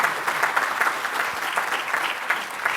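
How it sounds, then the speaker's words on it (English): A dense, steady audience applause at a Los Angeles event on housing needs, many hands clapping together at close range with a faint crowd murmur and no talking. "Give her a round of applause."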